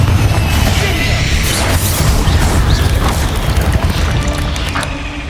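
A loud, sustained explosive boom from the Confringo spell in the video game Hogwarts Legacy, with a dense rumbling blast that fills the whole stretch and tails off slightly at the end.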